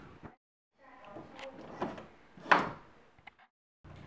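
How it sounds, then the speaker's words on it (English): A door opening or closing in a house, heard as a few knocks, creaks and one sharper thud amid background shuffling, moderately close. "I think that's the door."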